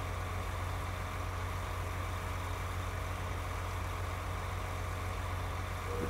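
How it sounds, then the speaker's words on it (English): A big John Deere tractor engine idles steadily in an Xbox farming game, a continuous, even low rumble with a constant hum and no talk over it. "That's a big ass tractor though."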